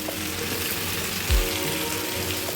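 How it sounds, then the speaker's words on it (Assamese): Potatoes fry in hot oil for an Assamese chicken curry, a dense continuous sizzle close up, with a brief low thump midway. "তো আলুটো এতিয়া ফ্ৰাই কৰি লওঁ অলপমান"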